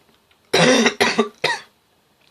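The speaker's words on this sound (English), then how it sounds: "I've got a bit of a bad cough." Three harsh coughs in quick succession, close and loud, followed by a brief pause of near silence.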